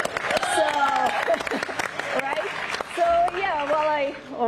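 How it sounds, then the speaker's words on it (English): People at NASA clap after the DART planetary defense test, in which a spacecraft struck an asteroid, is declared a success. Scattered, fairly light claps run beneath ongoing talk and excited voices. "I think we can clap to that"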